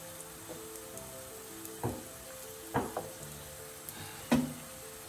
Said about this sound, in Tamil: கொஞ்சம் ஃப்ரை ஆகட்டும்.